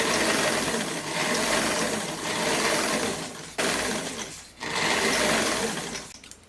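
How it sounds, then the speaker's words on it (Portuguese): A sewing machine stitches ruffles onto a dress, running in a fast, close, continuous mechanical hum in several long bursts separated by short pauses. "E essa hora você costura devagar"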